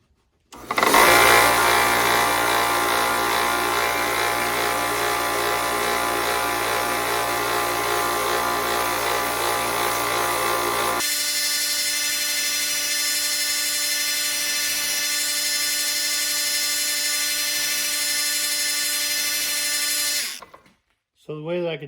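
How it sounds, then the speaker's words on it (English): Small 1x30 belt grinder running a 320 grit belt while sharpening a blade: a loud, steady motor whine with a rough grinding edge that drops to a smoother hum partway through, continuous for about twenty seconds, then stopping. "So I'm going to use the little 1x30 grinder. And I'm going to use A320 grit belt."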